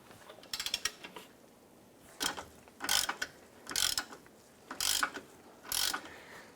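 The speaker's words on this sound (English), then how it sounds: "we have two 18mm bolts. We're going to go ahead and remove both of these." A ratchet wrench clicks rapidly on 18mm lower control arm bolts of a Cadillac SRX, in five or six separate bursts of loud close ratcheting with short pauses between.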